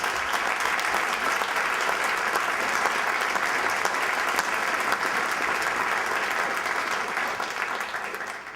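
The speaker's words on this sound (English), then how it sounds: "now I'm going to ask you to give her a round of applause for just what she's dealing with" Sustained applause from a town hall audience on LGBT health, dense and steady clapping filling the room for several seconds before tapering slightly at the end.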